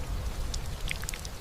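A rain downpour: close droplets patter and tick irregularly over a steady low wash of falling water, with no voices.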